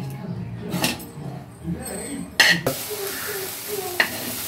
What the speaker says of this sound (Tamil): இதை இப்போ நல்லா மிக்ஸ் பண்ணி விட்டுக்கலாம்